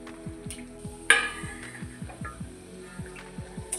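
Masala puris deep-frying in hot oil while a slotted spoon splashes oil over them, giving a steady close sizzle with a sharp crackling burst and repeated soft rhythmic scrapes.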